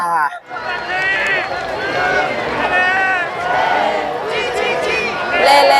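A crowd at a México vs. Brasil football match at the Pan American Games in Chile cheers and chants loudly and steadily, with many voices blending into a sustained roar.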